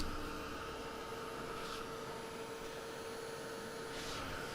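Handheld dryer blowing on wet paint on wood, a steady close whooshing hiss of air with a constant motor whine throughout.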